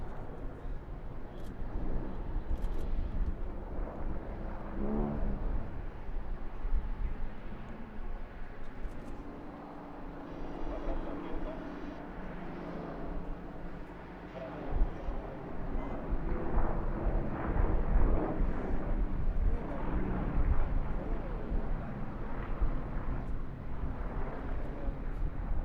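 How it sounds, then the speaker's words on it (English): Three Yak-50 aerobatic aircraft fly at an airshow, a continuous, fairly distant rumbling drone of radial engines that swells and fades across the sky with crowd ambience underneath. "The unmistakable rumble of the Yak-50 returns, this time 3 of them in the hands of the Anbo aerobatic team of Lithuania"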